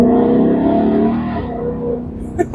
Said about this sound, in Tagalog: it feels a bit more raw in here because you got a very big exhaust system now